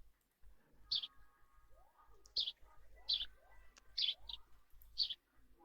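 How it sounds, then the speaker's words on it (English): Bird chirps in the video game New Super Mario Bros U Deluxe, Layer Cake Desert level: about six bright, short tweets spaced roughly a second apart, fairly clear over a quiet game background with faint low rumble. "The birds have a louder voice."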